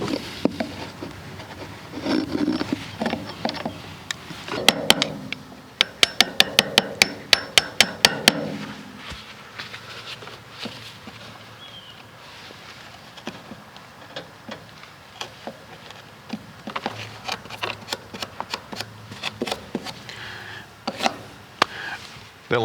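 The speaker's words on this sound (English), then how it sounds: "a chisel is the way to finish it up" A chisel is struck with a hammer to finish cutting out old-growth wood in a Victorian house, sharp close taps in irregular bursts including a quick run of about ten strikes, with scraping between.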